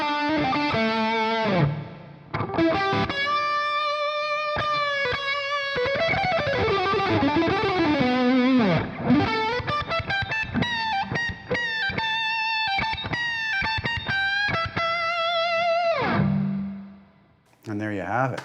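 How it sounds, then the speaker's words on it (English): An electric guitar played through a Revv G20 amplifier with reverb on rings out in sustained chords and bending lead notes, a washy tail hanging after each phrase before cutting to near silence at the end. "So that's our reverb."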